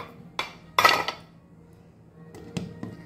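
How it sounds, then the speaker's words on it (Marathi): A lid set back onto a cooking pot while egg ghotala cooks, a few sharp metallic clinks and clatters, close and fairly faint, with scattered small knocks afterward. "परत झाकण ठेवायच्यावरती"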